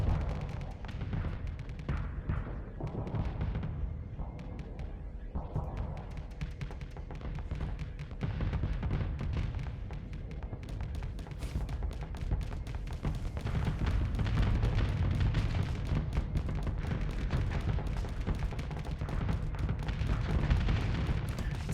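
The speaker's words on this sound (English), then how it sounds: "There's that missile swarm." A missile swarm in the space combat game Starsector unleashes a continuous barrage of booming explosions, dense and rumbling throughout, building somewhat louder in the second half.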